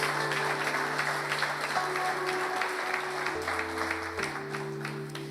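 A church congregation applauds during a communion service, a steady wash of clapping held at an even level over a sustained musical drone from start to finish.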